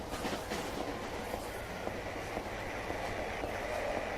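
A subway train car travelling in the video game Silent Hill 3: a low, steady rumbling drone with faint rhythmic clatter, quiet and continuous throughout, with no voices over it.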